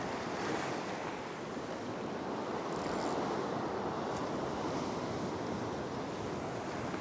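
Ocean waves wash onto rocks at a winter rock-fishing spot with a continuous broad surf roar. Wind buffets the microphone throughout, and no one speaks.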